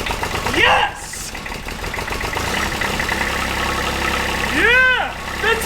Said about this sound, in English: You can see the motor is running right here